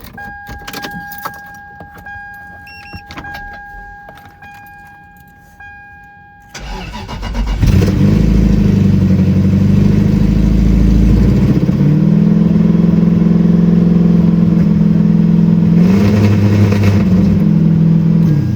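Keys jangle faintly, then a Lexus SC400 drift car with a recently snapped timing belt cranks and fires, settling into a loud, rough, steady run with occasional revs.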